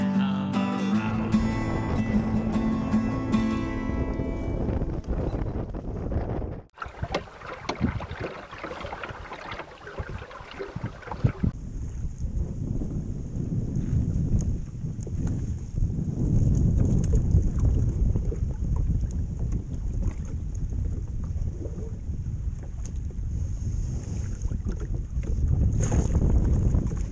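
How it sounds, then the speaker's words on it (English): Steady wind buffets a small sailboat out on a creek, a constant rushing roar of air across the microphone with water slapping the hull, continuous and fairly loud after some opening music. "There's a steady west wind blowing down the creek"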